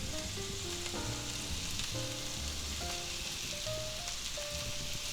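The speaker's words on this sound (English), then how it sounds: "Next we'll stir in some of our ham." Chopped ham sizzles steadily in a hot frying pan with peppers and cabbage as it is stirred in, a constant hissing fry close up with faint scraping, no talking.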